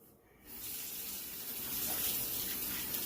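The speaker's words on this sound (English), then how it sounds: "all we're gonna do now is we're gonna add some water to it." Water gushes from a tap onto meat soaking for Mexican menudo rojo. It starts after a brief quiet moment and then runs as a steady, loud, splashing stream with no talking.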